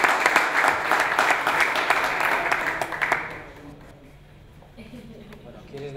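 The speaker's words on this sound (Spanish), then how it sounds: "vamos a darle un aplauso" An audience claps for Nacho during a comedy making-of press event, a dense burst of applause that fades out after about three seconds, followed by quieter room sound and faint voices.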